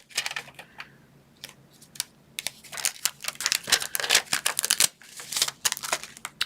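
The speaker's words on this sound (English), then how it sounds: "let me go ahead and stamp Friends in Any Type of Weather." A new rubber stamp mounted on an acrylic block is pressed and tapped repeatedly onto paper, producing a rapid series of close, crisp knocks and clacks with paper rustling between them.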